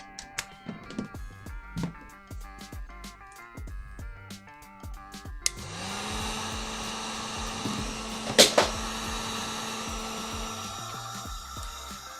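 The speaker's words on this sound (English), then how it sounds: "Heat gun." A heat gun switches on midway and blows with a steady, close whooshing hum after several seconds of scattered clicks and tapping from LED installation work on a 3D printer, holding level until the end.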